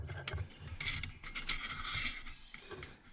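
A screw being driven into a Bush Box XL stove, heard as faint, close metallic ratcheting clicks and scraping twists in irregular bursts, quiet and without talk.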